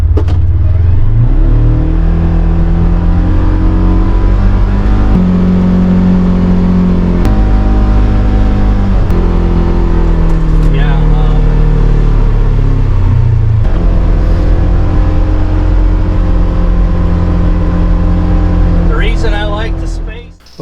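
A 2022 Polaris Ranger Northstar engine running in low gear, a loud steady droning rumble with shifting revs throughout, a voice speaking faintly under it.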